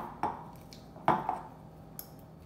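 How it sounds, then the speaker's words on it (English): A metal fork clinks and scrapes against a bowl while mixing goat cheese crepe filling, with a few distinct taps and a faint scrape, quiet and close, no talking. "now we're just gonna get our fork and mix it all up"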